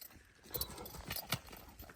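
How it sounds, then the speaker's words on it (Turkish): Donkey hooves clip-clop in a few faint, quick knocks on hard ground on a farm, close but quiet, with no talking. "Eşek."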